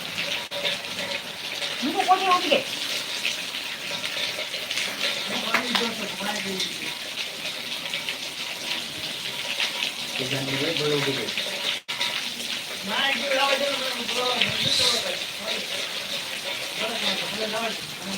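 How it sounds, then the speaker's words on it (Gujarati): Heavy rain driven by strong wind falls in Khadvavdi village, a steady, dense rushing wash heard close, with a voice talking over it at intervals. "ખડવાડી ગામમાં અત્યારે ધોધમાર વરસાદ ચાલુ છે પવન સાથે"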